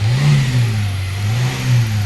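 A Hyundai Accent 1.4 engine with a rough idle fault revving up and down, two rising and falling swells of mid-pitched engine drone close by, with no voices.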